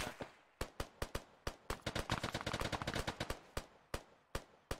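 Video-game gunfire from a combat mission, sharp cracking shots that start out spaced apart, build into a dense rapid burst, then thin back to single reports, loud and close.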